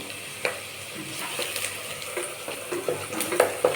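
Chopped ginger fries in a pan with a continuous soft sizzle, punctuated by scattered clicks and scrapes of a stirring spoon that grow busier toward the end; heard up close with no speech.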